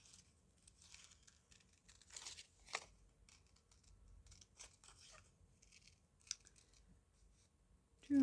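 Scissors trim paper around the top of a journal bookmark, giving quiet, intermittent snips and crinkles with a few sharper cuts spread through the quiet stretch.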